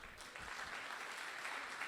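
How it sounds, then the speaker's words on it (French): Applause from an audience at a master's diploma ceremony for political science and law, as professors are invited onto the stage; dense, steady clapping fills the whole stretch without any clear voice. "Si vous pouvez les applaudir bien fort."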